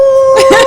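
A man imitates a dog howl with his voice, a short rising, wavering cry heard close and loud over a steady tonal hum.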